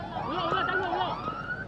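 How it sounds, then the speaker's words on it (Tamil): A wailing emergency siren sweeps up and down steadily during a local cricket match in Tamil Nadu, moderately loud and continuous, with background voices and crowd murmur mixed in. "சைரன் போட்டுருக்காங்க"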